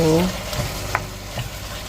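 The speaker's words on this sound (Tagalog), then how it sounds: "kailangan nating lutuing mabuti yung kamatis. Para ma-puree din siya." Tomatoes cooking with garlic and onion in a pan for kaldereta, a soft sizzle and stirring scrape, brief and close, with a short vocal sound at the start.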